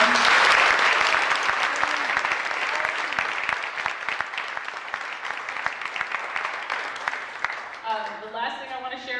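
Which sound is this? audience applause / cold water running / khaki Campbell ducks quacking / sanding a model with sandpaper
audience applause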